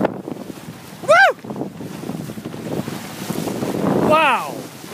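A sailboat moves along the Maine coast in steady wind, with rushing wind noise and water sounds throughout, broken by two sharp whistling or squealing calls.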